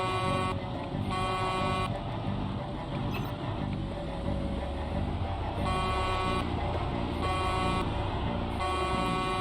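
Car horn blasts repeat in Project Zomboid, several long honks in an uneven pattern with brief gaps, loud over a low engine rumble from a truck in the game.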